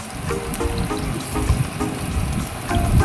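Onions and garlic sizzle in a hot pan with a steady, close, crackling hiss that runs throughout and has no talking over it.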